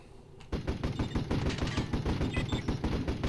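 Gunfire in the video game Warzone 2100 as a base comes under attack: after a brief quiet start, rapid rhythmic bursts of automatic fire hammer on steadily at close range.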